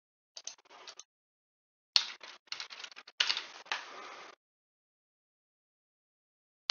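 Fingers type on a computer keyboard, entering parameters into a marketplace fee calculator: short, close bursts of light clicking keystrokes separated by brief pauses, then silence.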